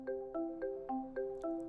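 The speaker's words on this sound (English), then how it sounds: "Answer a ringing call by pressing the Answer soft key." A Yealink T28P/T38P desk phone rings for an incoming call, its electronic tone sounding in six evenly spaced bursts over under two seconds, clear and alone.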